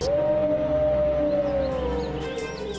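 A long, sustained wolf-like howl from a film trailer rises and holds a steady pitch for a couple of seconds, then slowly falls off, clear and prominent over a low ambient rumble.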